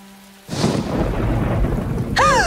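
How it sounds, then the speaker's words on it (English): Minecraft thunderstorm with rain: a sudden loud rumble of thunder breaks in over steady heavy rainfall, close and full, with a brief tonal game sound at the end. "It looks like the same thunderstorm that killed JJ."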